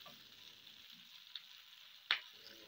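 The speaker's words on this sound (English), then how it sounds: "Allow to fry for about 2 minutes" Soya kebab frying in a pan, a low steady sizzle running throughout with a faint tick near the middle and a single sharp clink or stir knock toward the end.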